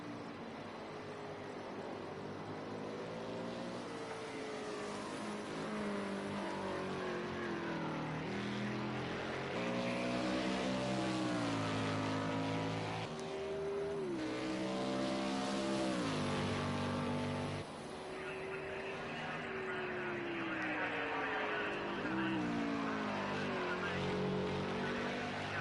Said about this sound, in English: cars are coming out for their first lap now